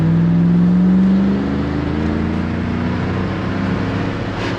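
A 1993 Chevrolet 1500 454 SS pickup with its big V8 pulls hard under acceleration, a loud, deep engine drone climbing in pitch, then easing after a shift and building again, heard from inside the cab.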